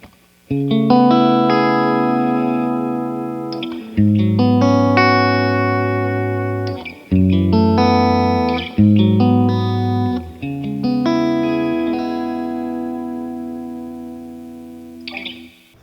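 Electric guitar strums ringing chords through a tube amp with the bright channel engaged, a bright, slightly crunchy tone, notes sustaining between changes.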